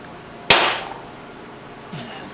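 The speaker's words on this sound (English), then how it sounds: "punch mark to get the drill right" A hammer strikes a centre punch once on metal to mark a drilling point during work on a BSA/BM Enfield 350 trials motorcycle, a sharp close metallic clank that rings briefly, followed by a faint softer tap.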